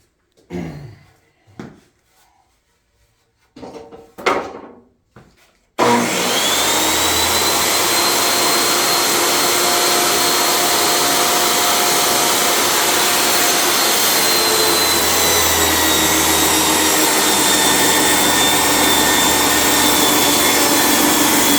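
A few faint knocks and scrapes, then a table saw starts and runs steadily and loudly through a long continuous rip cut in wood, a high whine over a droning motor.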